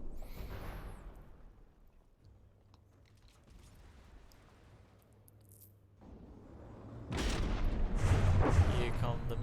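Missiles launch in a video game battle: a low rumble and faint mechanical hum give way to a loud, sustained roaring whoosh in the final few seconds.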